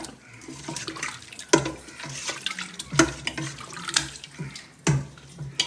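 Jaggery syrup is poured into cooked lentils for cheruparippu payasam and stirred, giving liquid splashes and sloshing with a few sharp utensil knocks against the pot, close and moderately loud.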